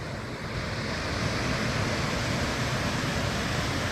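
The Yellowstone River pours over a waterfall between sheer cliffs in Yellowstone National Park, Wyoming, making a steady, dense roar of rushing water that holds constant throughout, with some wind noise mixed in.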